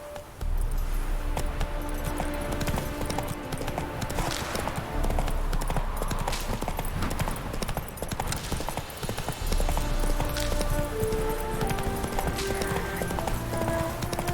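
Roach the horse galloping in The Witcher 3, steady rapid clip-clop of hooves repeating throughout, close and constant over a game music and ambience bed.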